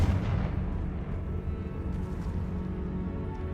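Confringo fire spell blast in Hogwarts Legacy, a deep booming burst that starts loud and then rumbles on as a steady low roar.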